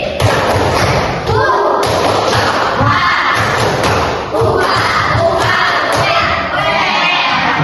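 A primary school class claps in a fast rhythmic pattern while loudly chanting together in Indonesian, energetic and close.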